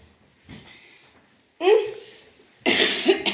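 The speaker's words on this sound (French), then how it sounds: "Je vais tousser." Two harsh, loud coughs close by, separated by a short pause, with a quieter breathy sound before them.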